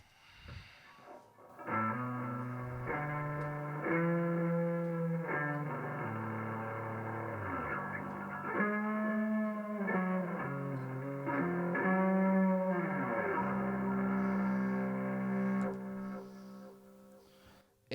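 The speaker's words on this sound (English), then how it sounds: "I've got a lo-fi delay, which has just got all the dirtiness" Bass guitar notes played through gritty, lo-fi distortion with echoing delay repeats trailing each phrase, steady and moderately loud with no voices.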